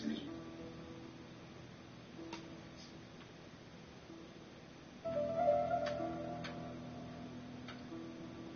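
Steady clock ticking inside a PS4 game, the regular tick-tock running quietly through the whole stretch, joined by a low musical hum and a brief louder swell of game sound partway through.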